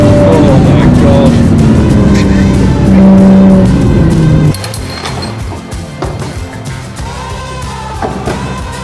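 Cars running on the Nürburgring track, engines roaring loud and close with shifting revs and a brief tire squeal before the noise drops to a lower rumble of passing traffic.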